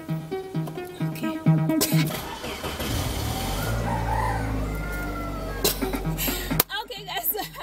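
A car engine cranks and starts, swelling into a loud, steady low rumble for several seconds before cutting off abruptly. Chickens cluck and a rooster sounds nearby.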